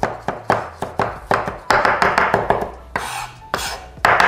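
A knife chopping parsley on a cutting board, with rapid close, crisp repeated strikes in a steady rhythm, alone.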